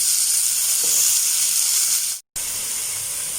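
Bell pepper fries in a hot pan for chicken soup with a close, continuous crackling sizzle and steam hiss, broken by one brief moment of total silence near the end before the frying resumes.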